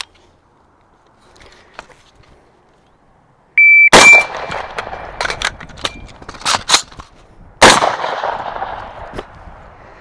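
Pistol shots during a magazine reload drill with a California fixed-magazine setup, loud and sharp, a quiet stretch before a sudden burst of several close reports and a metallic clang, with echoing decay between them.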